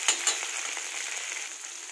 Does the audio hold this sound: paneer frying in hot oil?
yes